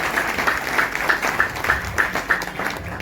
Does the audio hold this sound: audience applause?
yes